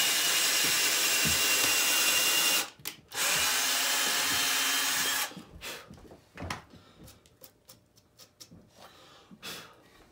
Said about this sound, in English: So now that that's all drilled out there